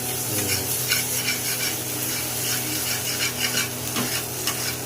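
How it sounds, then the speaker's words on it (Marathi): Ambadi flower chutney sautés in a pan with a steady sizzle and repeated scraping and tapping of a spoon against the pan, close and fairly loud, with no voices. "छानपैकी परतून झालेली आहे आपली चटणी"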